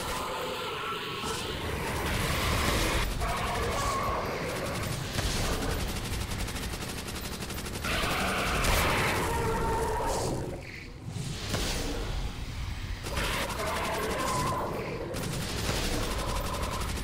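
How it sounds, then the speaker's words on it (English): Rapid gunfire from a Call of Duty: World at War zombies video game, dense continuous bursts of automatic shots with brief pauses, loud and up close throughout. "And start shooting."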